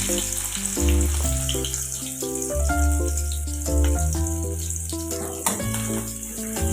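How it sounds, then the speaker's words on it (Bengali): Chopped onions and cumin seeds fry in hot oil in a home kitchen, giving a steady, close sizzle and crackle, with soft clinks and stirring under gentle background music. "তেল গরম হয়ে গেছে তার মধ্যে জিরে ফোড়ন দিয়ে দিচ্ছি দিয়ে দিচ্ছি পেঁয়াজ কুচি"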